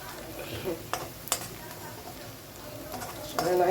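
Onion sizzles in a pan as garlic and pepper go in, with stirring scrapes and a few sharp utensil clinks over a steady low fry; a voice talks intermittently.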